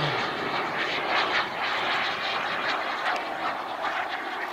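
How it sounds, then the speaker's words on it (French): A model jet aircraft passes along the axis of the runway at a model aviation meeting, its engine giving a constant loud whooshing roar that swells slightly as it goes by. "Passage du jet dans l'axe de la piste"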